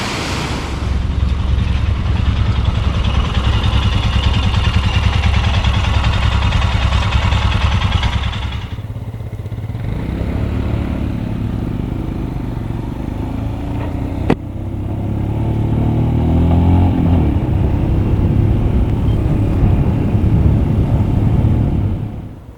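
A Royal Enfield Himalayan Scram 411 motorcycle rides in wet weather, its engine droning loud and steady with rushing wind, then dropping briefly to a lower, smoother hum before rising again.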